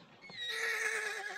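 A horse on a stage gives one loud, clear neigh that rises and then trails off in a long whinny, close and alone with no voices.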